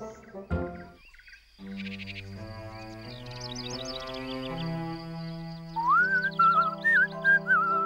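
A bright whistled tune rises and glides in short melodic phrases over gentle cartoon background music, close and clear, entering partway through with no talking.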